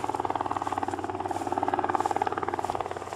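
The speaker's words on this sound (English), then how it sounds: "helicopter's coming" A helicopter flies over a river, its rotor beating in a steady rapid thump with a droning engine, moderately loud and continuous throughout.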